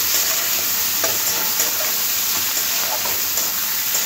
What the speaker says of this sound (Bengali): কেটে রাখা পেঁয়াজ, পেঁয়াজটা লাল লাল করে একটু ভেজে নেব।